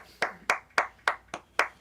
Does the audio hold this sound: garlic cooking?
no